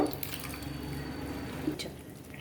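Soft pouring and trickling of water into a cooking pot of field beans for curry, fairly quiet and steady, with a small splash near the end.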